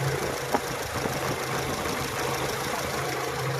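A Mitsubishi Adventure second-generation engine idles steadily and evenly, a continuous low mechanical hum with faint ticking, heard close up with no talk.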